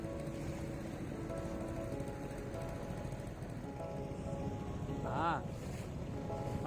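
Boat engines hum and rumble steadily amid wind and water at the Cai Rang floating market on the Mekong Delta near Can Tho, with a brief higher whine near the end.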